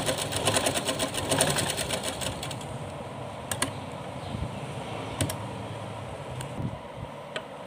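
A sewing machine stitches lace onto fabric for the base of a small devotional dress, with a brisk run of rapid close stitching followed by quieter pauses and a few isolated mechanical clicks.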